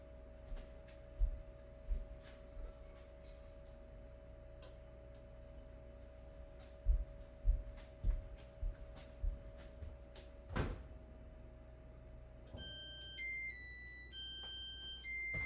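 A kitchen oven's timer alarm sounds near the end as a repeating series of electronic beeps, after scattered soft knocks and thuds in a quiet room.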